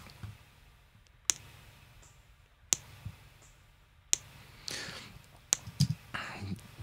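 Four sharp, isolated clicks from a Foot Blaster bass drum pedal trigger, unprocessed, spaced about one and a half seconds apart, followed by a few quicker taps and soft rustling in a quiet room.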